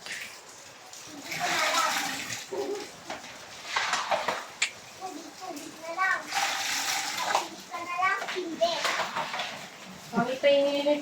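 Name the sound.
water splashing while removing flood water from house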